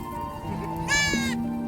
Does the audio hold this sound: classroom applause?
no